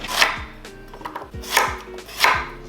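A knife cuts a fresh vegetable for Vietnamese braised fish (cá kho) on a board. Several firm, close chopping strokes land about once a second with softer slicing between, and no talk.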